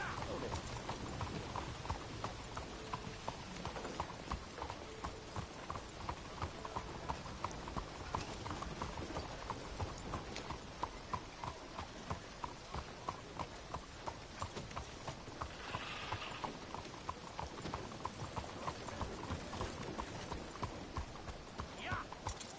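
Horse galloping in Red Dead Redemption 2, a steady rapid hoofbeat rhythm running throughout at moderate loudness, mixed with game ambience and a brief higher sound midway.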